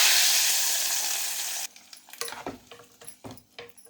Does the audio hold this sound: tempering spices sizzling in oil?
yes